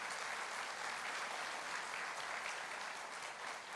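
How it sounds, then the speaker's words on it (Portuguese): A church congregation claps in praise during a sermon, a continuous, even wash of many hands at a moderate distance, sustained throughout with no talk over it. "pode aplaudir o Senhor"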